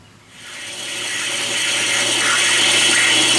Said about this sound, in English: We're cutting 1 1/4 inch brass. Look at the chips come off.